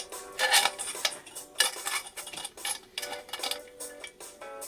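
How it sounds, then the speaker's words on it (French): Cutting pliers snipping through a recycled tin can, giving a series of close, bright metallic clicks and scrapes in an irregular rhythm with short pauses between cuts. "J'utilise ma pince coupante."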